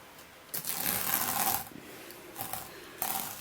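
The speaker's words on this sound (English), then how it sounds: "And we'll take off our tape now." Masking tape peeled off a painted canvas, a long rasping tear for about a second followed by two shorter ripping pulls, close and fairly quiet.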